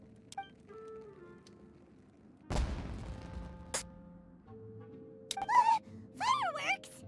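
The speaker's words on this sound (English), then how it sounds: "It sounded like fireworks." Fireworks bursting in the video game Genshin Impact: a loud broadband burst in the middle, then scattered crackles and whistling, rising shrieks near the end, over game music and character voices.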